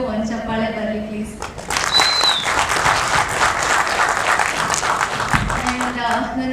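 Audience applause and cheering at a music video album launch, a loud burst of clapping that swells after a voice on a microphone and fades as the speaker resumes.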